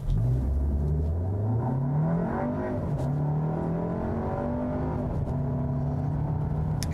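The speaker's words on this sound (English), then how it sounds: "I'm just going to basically floor it from a stop here" A 2019 Volkswagen Arteon in sport mode accelerates hard from a standstill, its turbocharged engine note loud and close, climbing steadily through the revs in one continuous pull without talking.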